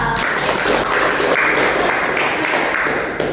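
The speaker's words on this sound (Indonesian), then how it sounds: "Beri tepuk tangan untuk Mbak Nela." Applause for a student's classroom presentation fills the room steadily, a dense wash of many hands clapping together, moderately loud and close, fading slightly at the end.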